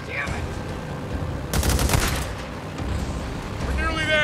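Gunfire in the video game Days Gone, a burst of rapid shots mid-clip over game ambience, with voices talking around it.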